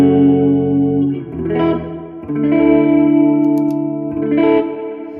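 An electric guitar played through a pedalboard with a chorus-like setting rings out in sustained, shimmering chords with distortion and echo. Each chord lasts a second or two, and the guitar is loud and close with no voices.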